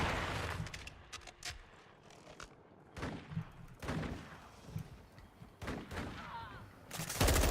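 Bursts of gunfire in a Call of Duty mod, several separate volleys of sharp shots spread across the stretch, mid-distance and fairly loud.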